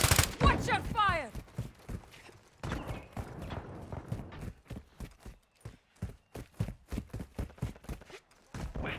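Rapid bursts of TAQ-56 rifle fire in a first-person shooter match on Valderas Museum, sharp repeated cracks in quick strings with brief pauses, while game characters shout over them.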